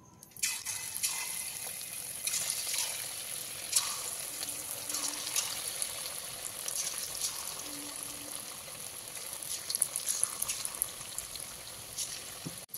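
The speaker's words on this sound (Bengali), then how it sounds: "তেলটা ভালো করে গরম করে নিয়েছি। এবার এর মধ্যে চিকেনগুলো দিয়ে দেবো।" Chicken pieces sizzle in hot white oil in a kadai, giving a steady, fairly quiet crackling and bubbling hiss that carries on throughout with small pops.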